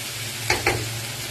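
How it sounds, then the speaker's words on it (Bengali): Potatoes frying in a pan give a soft, steady sizzle, broken by two quick stirring scrapes close together in the middle. "আলুটা একদম ভাজা ভাজা হয়েছে, এক পাশ হালকা ভাজা ভাজা"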